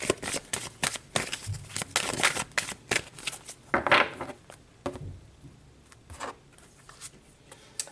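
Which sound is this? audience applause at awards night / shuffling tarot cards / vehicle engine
shuffling tarot cards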